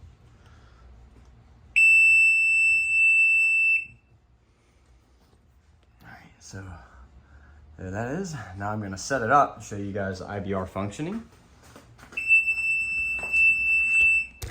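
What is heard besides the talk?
low battery warning beeping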